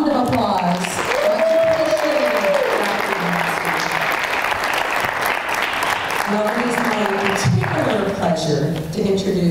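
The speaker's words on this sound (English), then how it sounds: "So if we could give all of our funders a big round of applause." Audience applause at a university lecture, a dense steady clapping that fills the hall at an even loudness, with voices faintly audible beneath it.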